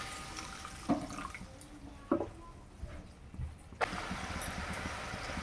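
Water pours into a pan of mango kasundi curry, a gushing splash that starts in short bursts and then runs steady and loud, with clinks of utensils near the start.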